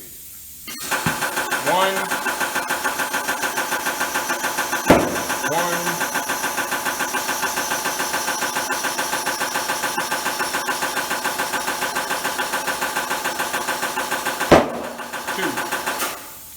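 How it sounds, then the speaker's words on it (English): Two sharp pops of a tire bead seating during inflation stand out over a steady mechanical hum of a compressor, with a voice briefly counting between them. "it's going to force air into the tire, and we're listening for 2 pops"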